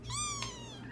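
Young kittens cry out in a continuous high, wavering whine, one drawn-out call that rises, holds and then trails off, loud and close with no talking.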